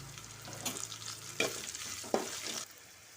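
Green chilies frying in oil in a home kitchen pan, a steady sizzle broken by a few sharp scraping stirs of a spoon against the pan, close and clear.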